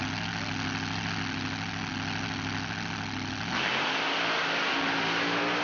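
A mud truck's engine at a racing meet idles with a steady rough drone, then rises sharply into a loud, sustained rev as it launches for the race, heard close and alone without voices.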